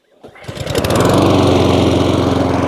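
A petrol push lawn mower is pull-started and its engine catches within half a second, then settles into a loud, steady, close buzzing run with a strong rapid firing rhythm.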